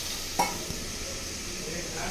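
Tomatoes and green chillies sizzle and fry in a pan for chutney, a steady soft crackle with a brief stir or scrape near the start and no talking.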